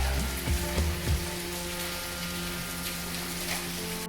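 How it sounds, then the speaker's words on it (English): Torrential rain pours down at a hotel in Chennai in South India, a dense, steady hiss of drops on hard surfaces with a few louder splashes near the start. "Our final travel day started with torrential rain at our hotel."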